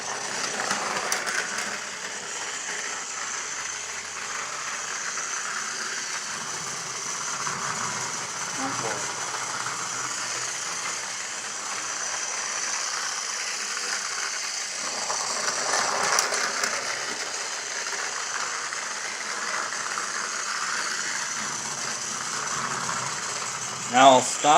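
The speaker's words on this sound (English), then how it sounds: "So I'll send Thomas on his way." A motorized Trackmaster Thomas toy train runs along the plastic track of an airport and hangar set, giving a steady, close mechanical whir and rattle that continues for the whole stretch without talking.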